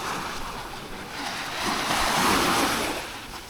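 Choppy sea waves washing against a submerged, disintegrating rock wall at a Sri Lankan city resort, a rushing surge that swells toward the middle then eases, with wind buffeting the microphone.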